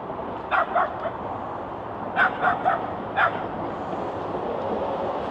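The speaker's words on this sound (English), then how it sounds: "And he's barking at the water." A dog barks at a river in a few short bursts, pausing between groups, over steady rushing background noise like flowing water.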